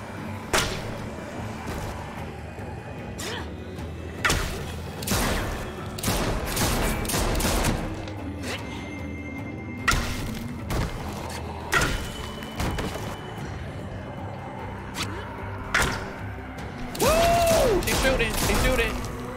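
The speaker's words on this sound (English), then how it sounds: "shooting." Gunfire in The Walking Dead Season 4 video game pops out in repeated sharp shots at an irregular pace, some close and loud, over a steady ambient background with a voice talking now and then.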